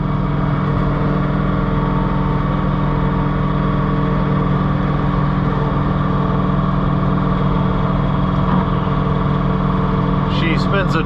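A John Deere 3046R compact tractor in two-wheel drive reverses on icy snow, its engine droning loudly and continuously while the tires spin, with someone talking over it.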